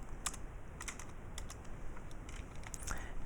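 Fairly faint, irregular keystrokes tap on a computer keyboard as Java code is typed, with scattered clicks and short pauses over low background hiss.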